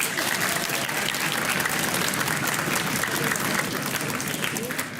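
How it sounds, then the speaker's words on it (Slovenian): Dense, steady applause from a quiz show audience cheering both competing school teams, a continuous wash of many hands clapping at even loudness for the full stretch with no pauses. "dajmo en aplavz za obe ekipi"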